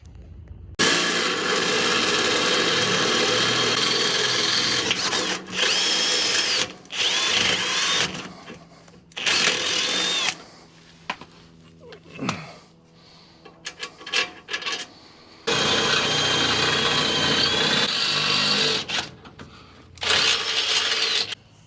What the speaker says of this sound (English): let me drill that out